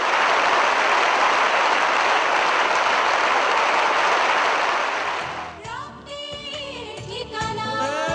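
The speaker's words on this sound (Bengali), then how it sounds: "সকলে জোরে একটা করে হাততালি হবে" A seminar audience gives strong, sustained applause, loud dense clapping that fades after about five seconds into speech and music.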